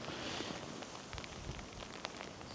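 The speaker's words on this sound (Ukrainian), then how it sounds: "Пішов дощ." Light rain patters steadily on a surface, with a soft broadband hiss and scattered drop ticks throughout.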